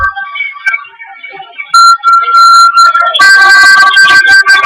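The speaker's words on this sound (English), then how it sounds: "Ah, finally, good ringtone." A phone ringtone plays loudly and up close, a melodic tone that turns into a busier, harsher electronic tune partway through, with no talking over it.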